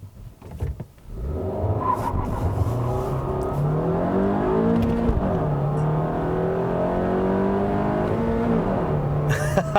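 A 2018 Honda Fit Sport with a six-speed manual revs up loudly while driving, the engine note climbing steadily through the gears over several seconds, close and dominant, with brief talk at the start.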